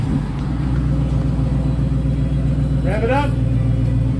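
A Dodge Challenger with its mufflers removed runs with a loud, deep, steady exhaust rumble close by, while a person talks over it briefly.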